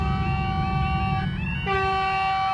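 A rush hour train nears a railway level crossing, its multi-tone horn blaring loud and sustained with a brief break, over a heavy rumble of rolling wheels.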